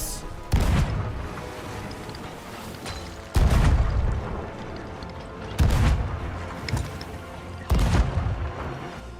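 Pirate ship cannons firing in the game Sea of Thieves: four heavy booming blasts spaced a couple of seconds apart, each a loud sharp report with a rumbling tail over ambient sea noise.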